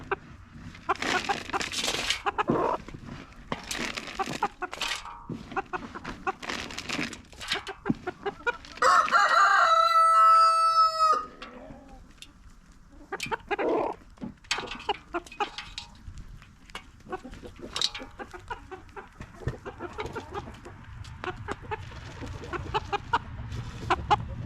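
A farm flock of chickens clucks and scratches close by at feeding time, with a loud rooster crow rising clearly midway and busy fowl chatter throughout.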